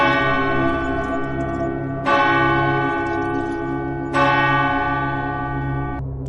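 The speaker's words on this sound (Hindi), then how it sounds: "और फिर ठीक 3 बजे घड़ी ने भयानक आवाज की।" A clock strikes three, each deep, bell-like chime landing about two seconds apart and ringing out in a long, droning decay that overlaps the next stroke, loud and alone in a hushed room.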